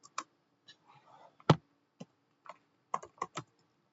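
Computer keyboard typing a Linux command, a dozen or so sparse, crisp key clicks with irregular gaps and one louder keystroke, close and quiet, no talk.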